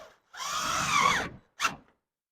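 A power drill whines for about a second as it drives a screw into eave trim, followed by a short second burst, close up and with no talking.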